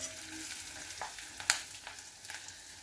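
Onions sautéing in an iron pan for a carrot fennel fry, with a quiet continuous sizzle broken by brief stirring clinks and one sharp scrape near the middle.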